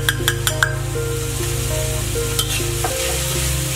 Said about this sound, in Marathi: हे देखील व्यवस्थित परतून घेणार आहोत